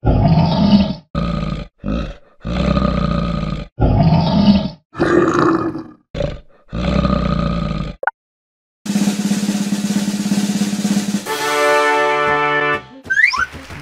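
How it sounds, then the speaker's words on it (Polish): Bear roaring, a series of loud, deep, growling roars in bursts with short pauses, followed by a brief different sustained animal call and a few rising whistle-like tones at the end. "Brawo, to niedźwiedź."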